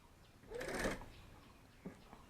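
Sewing machine stitching a bag, a brief burst of fast mechanical whirring, followed by a couple of small clicks and handling noises in a quiet room.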